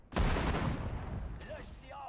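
Gunfire in the World War II strategy game Sudden Strike 4, a loud burst of shots landing at once, then a ringing, rumbling decay with faint distant effects trailing off.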